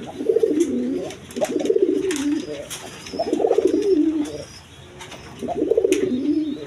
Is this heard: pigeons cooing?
yes